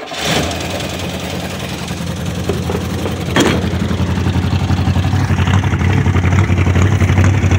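The 307 cubic inch V8 in a 1985 Buick LeSabre hearse cranks, catches and settles into a loud, rumbling idle, pulsing through true dual exhaust with Flowtech afterburner mufflers.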